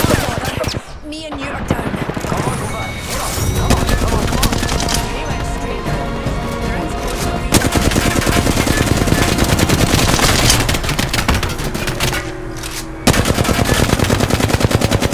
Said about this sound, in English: They're firing at us. Getting shot at.